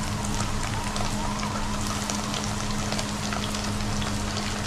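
Tomato hits a pan of dry-style chicken and sizzles loudly, a steady, close crackling fry that holds unbroken throughout.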